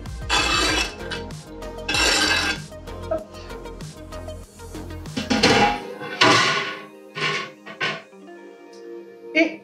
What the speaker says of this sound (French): On va y rajouter nos oignons verts et notre poisson. Donc, on va tout mettre ensemble.